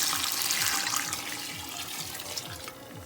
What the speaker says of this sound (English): cups of hot water. We're gonna put those in.